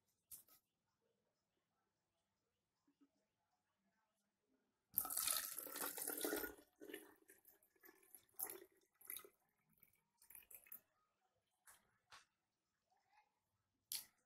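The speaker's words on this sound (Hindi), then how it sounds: "इसमें आपको 1/4 कह सकते हो वाटर, 1/4 नहीं मतलब 3/4 वाटर डालना है।" Water pours into an opened spray bottle in one short burst of trickling and splashing. Sparse drips, clicks and handling sounds follow in an otherwise quiet room.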